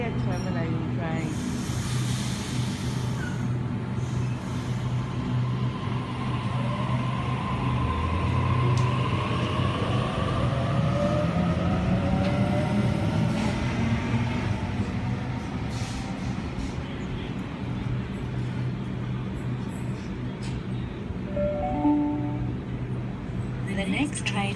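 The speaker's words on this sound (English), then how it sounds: "That might be a terminating train." A train arrives at Ashfield station platform, its rumble and squealing brakes building and fading over a long stretch, with people talking nearby and station noise around.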